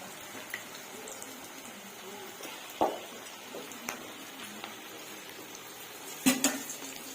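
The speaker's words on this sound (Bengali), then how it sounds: "পকোড়াগুলো একদম আমি লো ফ্লেমে ভাজছি" Cabbage pakoras fry in hot oil over a low flame with a soft, steady sizzle, broken by a few sharp utensil clinks and taps.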